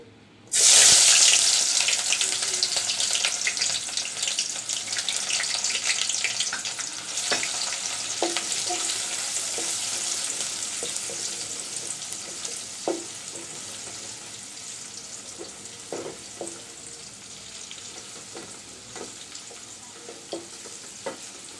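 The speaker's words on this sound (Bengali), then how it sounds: "এবার তেল গরম হয়ে গেছে এরপর যে আমি দিয়ে দিচ্ছি পেঁয়াজ কুচি" Chopped onions hit hot oil with a sharp onset, then a dense, steady sizzle of frying that runs close and loud throughout, with occasional light clinks and stirring scrapes.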